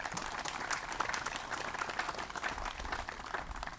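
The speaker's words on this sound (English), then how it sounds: "A round of applause." Steady applause from a crowd at a 2021 Memorial Day observance, dense even clapping lasting throughout, fairly distant and moderately loud with no speech over it.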